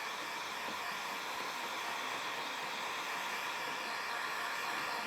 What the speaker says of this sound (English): just put a heat gun over the vinyl, and it should just pop right up